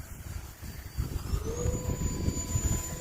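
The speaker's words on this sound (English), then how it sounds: "Now we're going to take off with the flaps on. And a little more elevator, and it took off way quicker." E-flite Turbo Timber Evolution RC airplane taking off with flaps down, a steady electric motor whine rising in pitch over a broad rushing noise, loud and close throughout.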